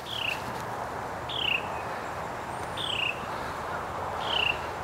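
A bird outdoors gives four repeated short, sharp descending calls spaced about a second and a half apart, clear and moderately close over a soft, steady background hiss.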